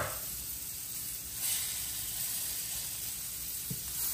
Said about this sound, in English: Okay guys, so these are the frozen burgers that's in here now. I'm just kind of like letting it sear a little bit.